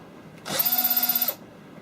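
A power drill spins up nearby for under a second during woodworking on a wooden desk organiser, a bright whining buzz with a fast rhythmic pulse that stops abruptly, surrounded by near silence.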